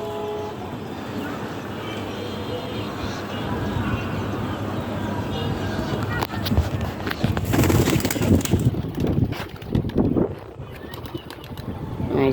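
Pet pigeons are let out of their loft, with a burst of wing flapping and clatter in the second half over a background of cooing and faint traffic; a person talks quietly nearby.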